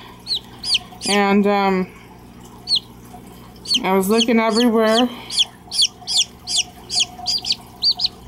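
Newly hatched ducklings chirp outdoors, giving a steady run of short, high peeps close by that continue between and beneath a person talking.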